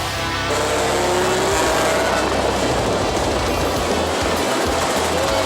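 Loud, continuous roar of motorcycle racing engines tearing past during a race, with a broad rushing wash of noise and shifting engine whine throughout.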